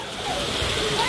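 Rain water pours and splashes steadily outdoors, a dense continuous rushing wash with voices talking over it.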